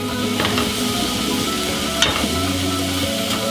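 Vegan veggie curry soup being stirred in a pot: a steady, close sizzling bubble with soft scraping strokes and one sharper clink near the middle, no voices.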